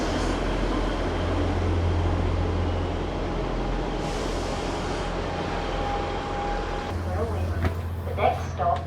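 A ScotRail class 158 diesel multiple unit running toward the Forth Bridge, heard from onboard as a steady loud rumble and drone with a brief tonal whine, fairly constant throughout.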